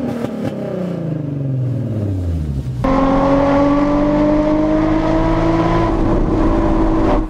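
A Nissan 350Z with the VQ35DE V6 revving hard, its high-pitched engine note sweeping down through gear changes, then holding a loud, steady, whining tone close by before cutting off.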